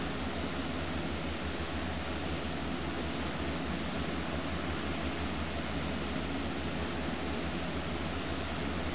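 A small propeller plane's engine in the flight simulator FSX drones loudly and steadily, a constant close hum and buzz with no variation and no talk.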